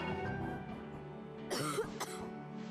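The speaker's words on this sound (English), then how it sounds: "you sure cough a lot sometimes" Coughing in the video game Final Fantasy Type-0 HD, a couple of harsh throaty bursts near the end rising over a steady background of game music and tones.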